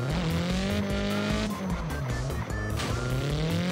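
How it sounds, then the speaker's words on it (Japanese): A car drifts through a Japanese mountain pass in the video game CarX Drift Racing 3, its engine droning loudly as the tires squeal in a sustained, wavering skid that dips and rises, with no speech. "ドリフトしやすいですね。"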